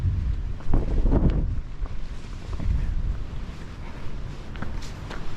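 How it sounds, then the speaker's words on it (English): Strong gusts of wind on an exposed rocky ridge along the Appalachian Trail near Luray, Virginia, buffet the microphone, a steady low roar that surges and eases, with no voices. "When it's this windy"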